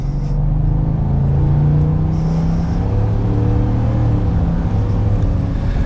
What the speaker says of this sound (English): Definitely has a good beefy V8 sound to it, of course, with that 5-liter engine